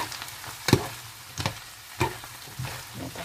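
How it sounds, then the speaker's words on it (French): Bamboo shoots frying in a pan with oyster sauce, fish sauce and pepper, a steady close sizzle broken by three sharp stirring scrapes at regular intervals. "Je vais mettre le bambou dans la poêle"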